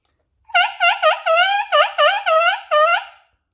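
A tenor saxophone mouthpiece and reed played on their own give eight loud, close, buzzy honks in a quick irregular series, each bending in pitch like a duck call, with silence before and after.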